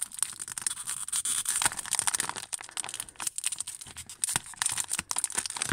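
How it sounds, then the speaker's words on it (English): Scissors snip and tear through a plastic Lego Harry Potter minifigure blind bag, producing close, quiet crinkling and crackling with irregular short cuts and rustles throughout. "Let me go and get some scissors. Okay, so just need to cut this"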